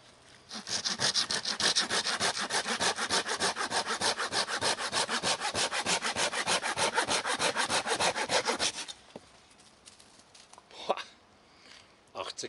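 A premium folding saw cuts through wood in fast, even back-and-forth strokes for about nine seconds, loud and close, then stops and leaves quiet handling noises.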